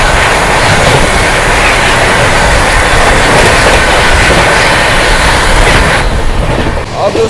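Swarna Shatabdi Express from New Delhi to Lucknow racing along the main line past Khurja Junction, a steady loud roar of wheels and rushing air that holds without a break and eases slightly near the end.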